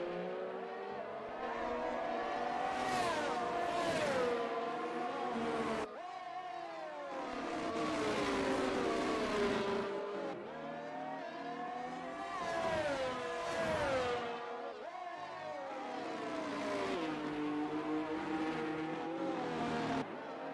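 Sim racing game race cars at the Portugal circuit wail through gear changes, with engine pitch repeatedly climbing then dropping as cars accelerate and brake through corners, loud and continuous with overlapping engines.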